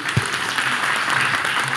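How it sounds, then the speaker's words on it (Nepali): Loud, steady applause from a studio audience at a Nepali television music show, continuous clapping filling the whole moment with a brief low thump near the start. "जोरदार ताली"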